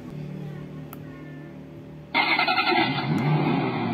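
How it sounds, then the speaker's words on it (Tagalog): A Jeep Spirit JPS SC001 Bluetooth speaker powers on and plays a car engine start effect: a quiet hum, then a sudden loud cranking roar that settles into a steady engine rumble, heard up close. "maririnig ninyo pag nag-power switch tayo, may tunog ng sasakyan"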